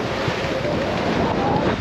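A heeled-over sailboat's bow slices through open-water waves, giving a steady rushing wash of water mixed with constant wind buffeting on the microphone, close and continuous with no talking.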